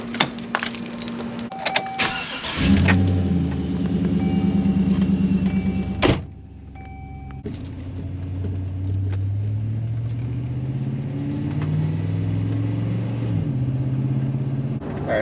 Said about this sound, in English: let's hop in the truck and take her down the road